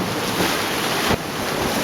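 Stream water in near-flood conditions rushes through a narrow rock flume, a loud, continuous broadband roar close to the microphone with a brief surge partway through.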